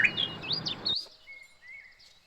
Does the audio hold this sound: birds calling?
yes